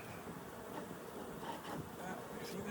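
Bees buzzing around a beehive outdoors in Colorado, a faint diffuse hum with light wind noise across the microphone.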